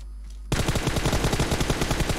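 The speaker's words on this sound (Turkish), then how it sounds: "Bak adam rastgele sıktı, vurdu bak" Automatic gunfire in the mobile battle-royale game PUBG Mobile bursts in after a brief quiet moment, a loud, rapid stream of shots continuing steadily to the end with no voices over it.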